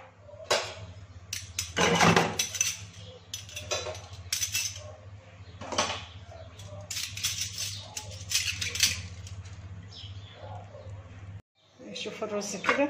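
Dishes washed by hand in a busy home kitchen: close clinks and clatters of cutlery, plates and pots, with running-water hiss and brief splashes, irregular and fairly loud.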